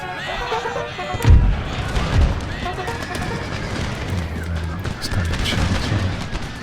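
Massed musket volleys and booming shots ring across an 18th-century battlefield in Empire: Total War, with a couple of heavy blasts early on over a continuous rumbling din of battle.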